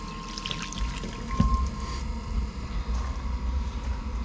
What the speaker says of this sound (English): So we got water flowing.